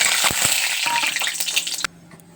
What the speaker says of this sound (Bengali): কড়াতে তেলটা দিয়েছি, তেল গরম হয়ে গেছে। এবার আমি শুকনো লঙ্কা দিয়ে নেব।